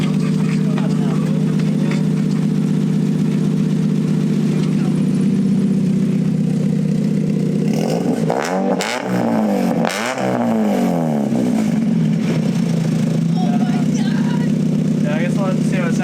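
Mazda Miata NA with a custom exhaust runs close by, a steady low engine drone broken by a brief rev in the middle before it settles back to idle.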